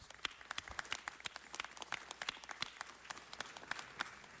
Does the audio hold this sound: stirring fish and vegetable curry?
no